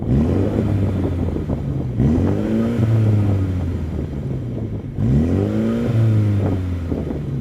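A Mini's engine revs loudly and close in three rising bursts, each note lingering and falling away slowly with noticeable rev hang between them.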